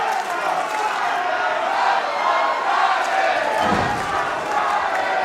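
A divided crowd at a professional wrestling event inside a cultural center hall, loud and sustained with cheering and chanting voices blending into a steady roar, with one brief thump partway through.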